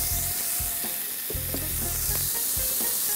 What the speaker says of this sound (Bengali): এখন এখানে 1 চা চামচ তেল দিলাম। এবার আমরা চিকেনটাকে এখানে দিয়ে দিচ্ছি।